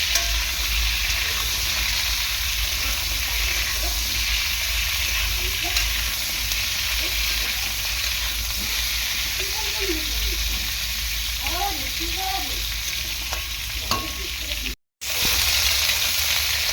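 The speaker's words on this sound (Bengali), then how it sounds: "আমি আলু ভাজার তেলের মধ্যেই পটলটা দিয়ে দিয়েছি" Pointed gourd fries in oil left over from frying potatoes, giving a steady close sizzle with intermittent stirring scrapes and a faint voice in the background. A brief dropout cuts the sound near the end.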